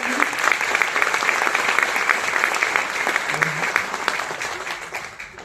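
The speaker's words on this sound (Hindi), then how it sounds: "जोरदार तालियां।" An audience at a corporate business event in Mumbai applauds steadily for about five seconds. The dense, continuous clapping has crisp individual claps standing out, then eases slightly near the end.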